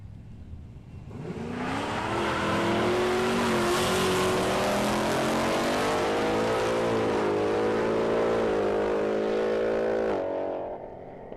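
Supercharged Mustang making a drag racing run at Palmyra Raceway, a loud sustained engine roar building from launch and pulling hard through the gears for about nine seconds before cutting off.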